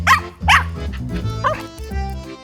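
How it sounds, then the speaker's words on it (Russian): A small dog barks three times up close, sharp yapping bursts spaced apart, over a steady low background hum. "Вот, это просто цирковая собака."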